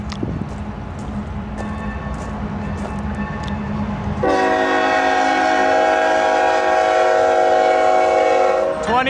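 A train rumbles past Tucson station with rhythmic clatter, then a loud, sustained multi-tone horn blasts for the final several seconds.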